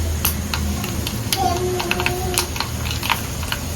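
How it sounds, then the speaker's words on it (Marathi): Mustard seeds splutter in hot oil in a pan for tempering, giving scattered sharp pops and crackles, close and fairly loud, over a steady low background. "आणि राई सुद्धा तडतडून देणार आहे व्यवस्थित"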